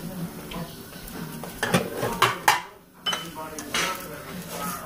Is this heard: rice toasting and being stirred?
yes